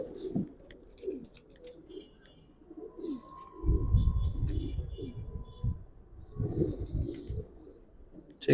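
Giribaz pigeons coo softly in bursts near the listener, low throaty rolling calls repeating in irregular phrases with quieter stretches between, a louder run of cooing in the middle and faint higher chirps at times.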